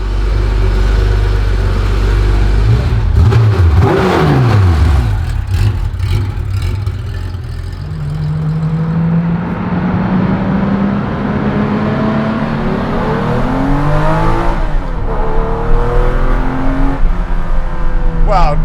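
A Baja-style Porsche 911 trophy truck accelerates on a drive, its engine climbing through gears in repeated rising pulls heard from inside the cabin, loud and continuous with road rumble underneath.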